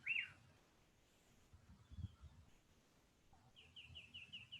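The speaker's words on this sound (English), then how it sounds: "Birds," Faint birds call outdoors: a short chirp at the start, then a quick series of repeated high notes near the end, over soft low rumble.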